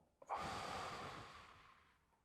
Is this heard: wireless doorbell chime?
no